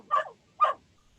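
A dog gives two short, clear barks about half a second apart, moderately loud against an otherwise quiet background.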